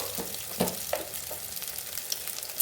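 Eggs sizzle in a hot pan while being stirred for chicken fried rice: a continuous frying hiss broken by scraping stirs and a few sharp clinks of the utensil, close and fairly quiet.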